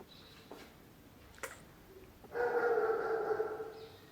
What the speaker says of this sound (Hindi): कुत्ता अभी भी भौंक रहा है